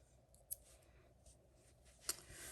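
Two quick, crisp snips of scissors cutting paper, one early and one near the end, with quiet rustling between.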